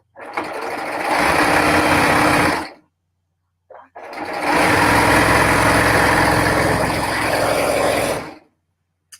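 Sewing machine or serger stitching a quarter-inch seam on fabric for a maxaloones garment, running loud and steady in two long bursts separated by a brief pause, with no talk.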